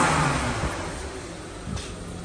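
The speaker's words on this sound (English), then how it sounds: "Engine sounds nice." A 1996 BMW 523i engine runs steadily at close range, with a smooth mid-pitched hum and a slight swell near the end.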